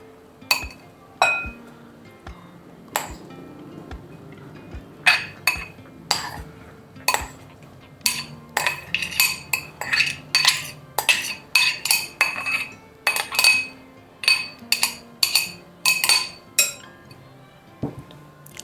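Grated amla being moved into a bowl for amla and fresh turmeric pickle, heard as a long run of sharp clinks and taps of a utensil against the bowl, close up and fairly loud, with no talking.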